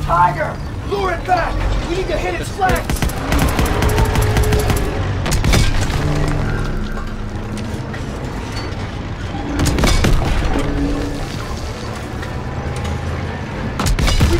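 Tank cannon fire against a German Panzer in Call of Duty WW2, heavy booming shots and gunfire rattles scattered across a noisy battle soundscape, with voices shouting over the combat.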